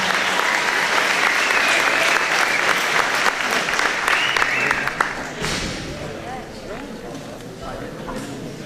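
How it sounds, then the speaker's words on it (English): A graduation crowd gives a loud round of applause that holds for about five seconds, then fades away, leaving quieter room noise and a few scattered sounds. "maybe we can show her appreciation with a round of applause"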